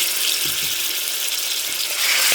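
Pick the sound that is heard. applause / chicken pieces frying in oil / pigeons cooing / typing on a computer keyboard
chicken pieces frying in oil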